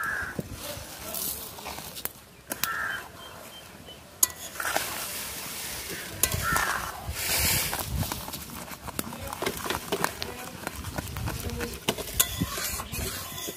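A spoon scrapes and clinks around a pan while fish roe chutney simmers. The light, irregular stirring taps and rasps continue throughout at a moderate distance, with faint kitchen background noise.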